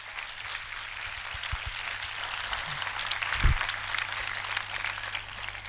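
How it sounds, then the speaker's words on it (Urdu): A congregation claps at a Wednesday church prayer service, a sustained spatter of applause heard from a moderate distance, with a few heavier thumps partway through. "بجاؤ پاکرو کے لیے زوردار تالیاں"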